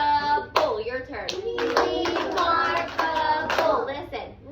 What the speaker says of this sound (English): I'm going to clap remarkable